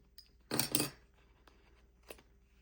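Scissors trimming the edge of a junk journal cover, two quick close snips in a row and then a fainter single snip a moment later, against a quiet room.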